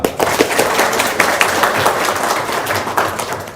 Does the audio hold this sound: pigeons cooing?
no